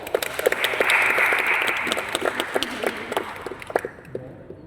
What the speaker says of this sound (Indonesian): Tepuk tangan tuh, tepuk tangan.